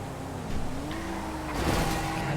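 A car engine drones and revs steadily through a street race in the video game GTA Online, with a brief tire squeal rising toward the end; no one talks.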